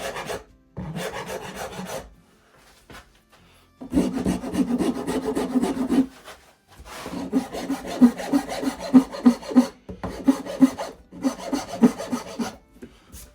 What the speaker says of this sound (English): when you've got little corners like this, a half round file is all that's required